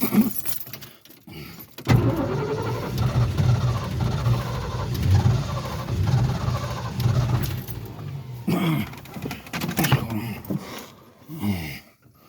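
A 1969 Ford Mustang Mach 1 V8, still hesitating and no longer idling high, rumbles loudly and steadily for several seconds with keys jangling, then cuts to uneven knocks and rattles.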